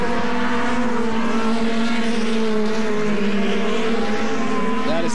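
Pro Light off-road racing trucks on a dirt track churning past in a loud, sustained engine roar with shifting pitch, and a truck sweeping close by near the end.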